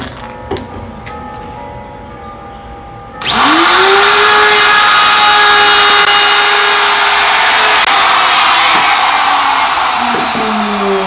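A Burgess edge router routing a piece of oak switches on after a few quiet seconds, then runs with a loud, steady high whine close by until the end.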